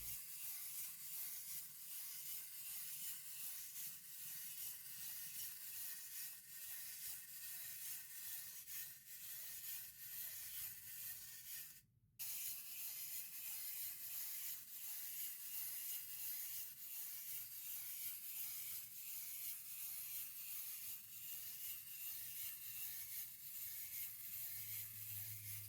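Small wind-up motor of a Zoids Twinhorn toy walking with its head bobbing, a steady close whirring, ratcheting grind that runs on and on and breaks off once for a split second before resuming.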